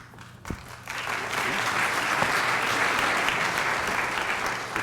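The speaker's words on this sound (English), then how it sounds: "Good start. I got an applause." An audience at a university debate between the University of Georgia and the Oxford Union breaks into applause, a dense, sustained round of clapping that swells after a brief start and continues steadily.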